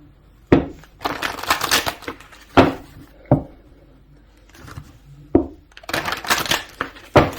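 Tarot cards are shuffled and pulled from the deck, giving sharp papery slaps and snaps in short bursts between rustling, several distinct card strikes spread across the stretch.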